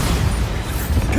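A Bombarda blasting spell from Hogwarts Legacy detonates in a short, loud, broadband burst with a heavy low rumble, filling the brief moment alone.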